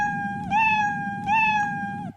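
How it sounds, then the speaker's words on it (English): A cat gives two drawn-out, rising-and-falling meows in quick succession, close and clear against a quiet room background. "He meows, right? He meows."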